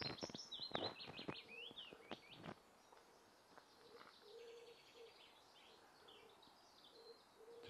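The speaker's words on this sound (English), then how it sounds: "Plenty of songsters singing for the day." Several birds sing and chirp outdoors, with a burst of loud, close calls early on, then softer, repeated distant song continuing steadily.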